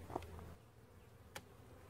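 Honey bees at a hive, a faint low buzzing with a couple of brief louder passes of a single bee close by.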